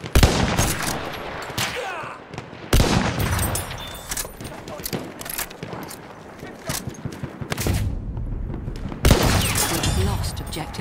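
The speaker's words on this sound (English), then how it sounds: "Artillery, be careful." Battlefield 1 combat erupts with loud artillery blasts and sharp bursts of rifle and machine-gun fire, including the Ross MkIII marksman rifle, hitting in repeated heavy cracks with some game voices mixed in.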